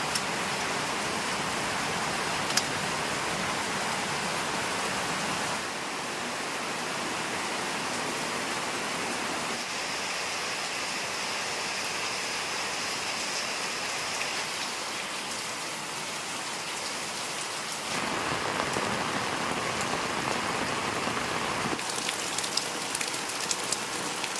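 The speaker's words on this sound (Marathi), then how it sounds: "पाऊस खूप बाहेर पडतोच आहे" Heavy rain pours down outside in a village in a steady, dense hiss that shifts slightly in intensity but never lets up, with no voices.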